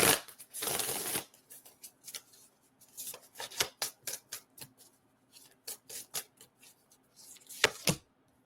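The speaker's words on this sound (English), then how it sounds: "One more shuffle." Tarot cards being shuffled by hand: a loud riffle burst at the start, then a run of quick, dry card flicks and slaps in an irregular rhythm, close up with no talking.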